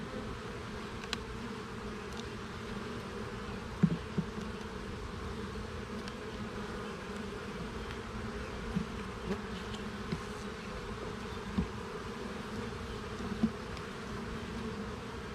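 Honey bees buzzing around an opened beehive during a hive check of overwintered queens, a dense steady drone of many insects with occasional individual bees passing close, no talking.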